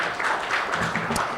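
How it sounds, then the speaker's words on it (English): An audience at an African LPG summit applauds a platinum sponsor, a brief burst of fairly loud clapping from a crowd with some voices mixed in. "A round of applause to our platinum sponsor."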